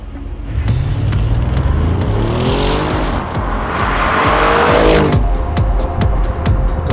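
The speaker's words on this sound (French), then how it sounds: "la RS7 se fait entendre en pleine accélération" A 605-horsepower Audi RS7 accelerates hard on a track, its engine roaring loud and close and climbing through the gears, with tire squeal and a rising, rushing whine.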